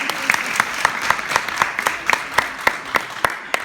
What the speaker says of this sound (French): Et vous devez applaudir pour ça.